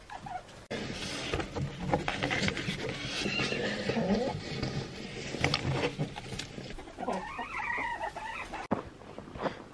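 Chickens on straw bedding cluck and squawk almost continuously, close and fairly loud, in a busy, overlapping chorus from several birds.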